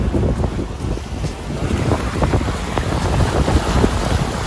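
Sailboat with a dead motor being towed by another boat at sea, steady loud wind buffeting the microphone over engine rumble and water wash, continuous throughout with no talking.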